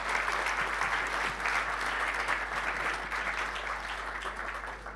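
Steady applause from a conference audience after a round table discussion on agriculture, a dense even patter of many hands fading slightly toward the end.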